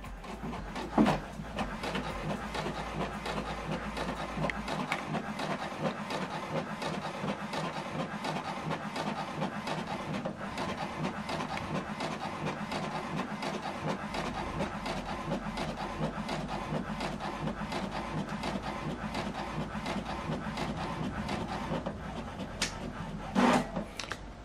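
HP DeskJet 2800e inkjet printer printing a document sent from a phone, a steady close mechanical whir with rapid repetitive clicking from the moving print head and a low motor hum throughout.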